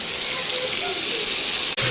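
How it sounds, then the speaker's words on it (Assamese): Chicken fries directly in about half a litre of hot oil over a full flame, a loud steady hiss and sizzle that runs continuously, briefly cut by a short dropout near the end, with a voice faintly under it. "মাংসটো ডাইৰেক্ট তেলত দি ফুল জুইত ভাজি ল'ম"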